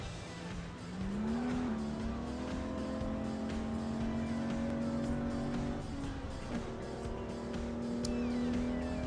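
A car driving in the video game Grand Criminal Online, a steady engine hum rising in pitch as it accelerates, then holding a sustained drone with brief tire squeals, fairly quiet and continuous.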